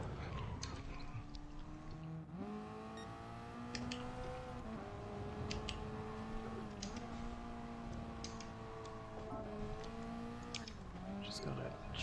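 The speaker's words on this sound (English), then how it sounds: "Because I can barely hear the engine over the party chat." Racing car engine in a video game race, a steady droning tone that climbs and drops with gear changes throughout, heard under muffled party chat voices.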